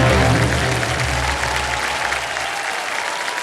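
Loud, sustained applause from a studio audience on a televised quiz show, dense steady clapping that fills the clip and eases slightly toward the end.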